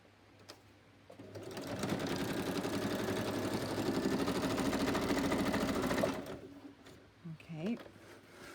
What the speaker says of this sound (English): I'm just going to stitch down the middle